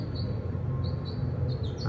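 Small birds chirp outdoors in short, high, bright calls repeating every half second or so, faint over a steady low background rumble.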